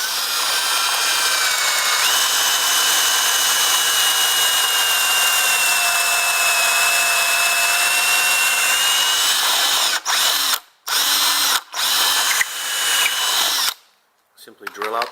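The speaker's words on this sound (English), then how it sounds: "a jig is set into place to drill and set the fastening screws" Power drill boring pocket holes through a Kreg jig while fitting a garage door panel, a loud steady whine running about ten seconds before breaking into short bursts and stops.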